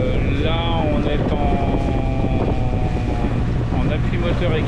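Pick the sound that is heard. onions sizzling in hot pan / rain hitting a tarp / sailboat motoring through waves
sailboat motoring through waves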